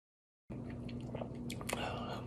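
Soft, close chewing of spicy ramen noodles, a few wet squishy bites and mouth sounds after a brief silence, quiet and intimate with no talk.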